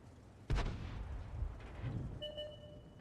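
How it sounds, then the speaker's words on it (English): Tank guns fire blind in a combat video game: a sharp, booming shot lands early, followed by rumbling echoes and a second softer blast, then a thin high tone lingers near the end. "Our guys do some blind firing."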